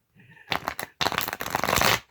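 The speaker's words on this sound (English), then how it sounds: "And the blank cards on the bottom as I'm shuffling." A deck of playing cards, including some blank ones, is shuffled up close in short, loud riffling bursts, one brief burst followed by a longer run.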